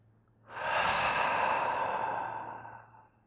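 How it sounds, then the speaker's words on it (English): During a yoga class, a single long, soft exhale out of the mouth rises quickly, holds for a couple of seconds and fades gently, close and quiet with no talking. "Exhale out the mouth."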